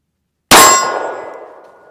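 A 9mm carbine fires a single Hornady 135-grain +P round over a chronograph: one loud, sharp report with a metallic ring that decays over about a second and a half, with no talking.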